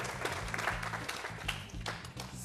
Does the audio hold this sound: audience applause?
yes